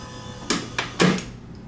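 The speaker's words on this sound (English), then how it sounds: "it should close the door" An automatic door opener in program mode swinging a door shut, heard as a few sharp mechanical clicks and knocks over a low motor hum, ending in a solid thud as the door closes.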